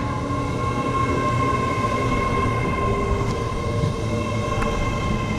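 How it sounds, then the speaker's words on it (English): An LNER Class 801 train pulls into York station with a steady, loud rumble and a sustained electric whine, continuous throughout, with no talk over it. "There she is, 801-225 LNER working service bound for Edinburgh Waverley from London King's Cross."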